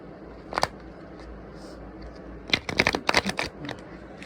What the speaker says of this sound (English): I feel like I can't get a good shuffle